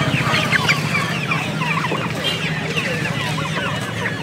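Many chickens cluck and squawk together in a busy, crowded chorus at a Sunday poultry market in Nellore, with people talking in the background throughout.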